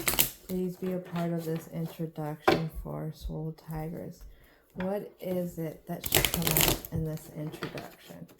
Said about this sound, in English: New decks are a little bit harder to shuffle at times.